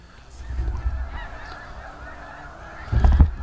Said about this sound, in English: Ducks all over the place.